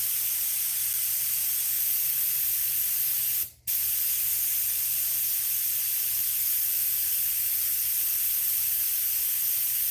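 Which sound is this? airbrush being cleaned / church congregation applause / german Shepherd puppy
airbrush being cleaned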